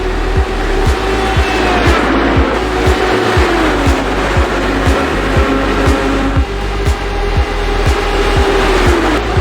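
Race cars at Dover spin out on lap 4, engines droning loud and steady with a rhythmic repeating thump and a rising, falling engine pitch, without any talk.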